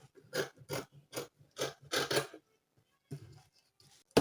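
Scissors snip through fabric for a kaftan dress in a series of crisp, close cuts with a steady rhythm, then a pause and a few more snips.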